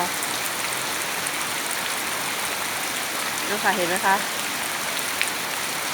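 Steady heavy rain pours down in a dense, continuous hiss in Pattani, with someone speaking briefly near the end.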